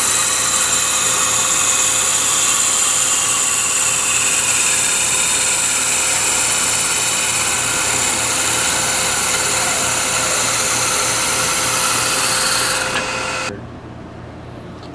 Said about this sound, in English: I'm using a parting tool made from an old reciprocal saw blade.